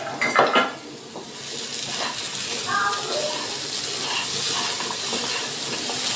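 Coconut and jaggery filling cooks in a kadai, with a metal utensil clattering and scraping against the pan as it is stirred, then a soft, steady sizzle that continues to the end.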